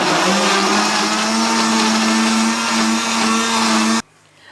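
A blender grinds ginger and garlic into paste, loudly with a steady high whine for about four seconds, then cuts off abruptly into quiet.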